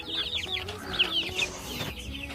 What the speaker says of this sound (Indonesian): ini adalah ayam rawang guys ya, usia 1 bulan, 31 hari